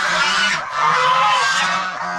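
A goose honks loudly and repeatedly up close, a harsh nasal call that carries on for a couple of seconds with no talking, near a gosling on a farm.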